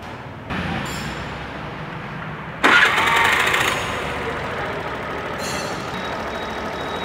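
A Suzuki Access 125 BS6 scooter engine idles steadily at about 1600-1700 RPM during a high-RPM fix, a close, even drone that briefly rises in intensity partway through, with no talking.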